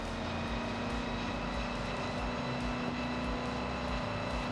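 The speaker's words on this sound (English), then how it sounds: "It is a supercharged engine in this freaking GMC. That's why it sounds so weird." A supercharged GMC engine in the racing game Forza Horizon 6 drones steadily, with a constant low rumble and an even tonal whine running through the whole stretch, no talk over it.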